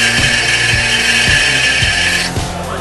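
A Centroid Acorn CNC lathe spindle winds up, a loud steady whine with rhythmic mechanical knocks repeating about every half second, fading slightly at the end.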